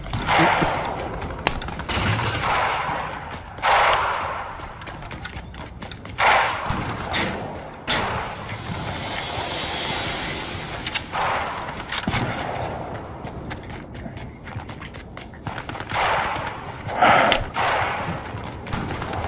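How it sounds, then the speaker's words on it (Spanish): Rapid gunfire exchange between players in the Fortnite video game, with bursts of shots and thuds recurring throughout, fairly loud and dense against game background sounds. "mientras estos se entretienen pegándose tiros"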